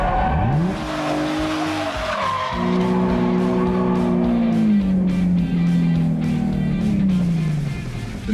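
A Chevrolet Trailblazer drifts around cones, its tires squealing in long, loud wailing sweeps that fall in pitch, with the engine droning underneath.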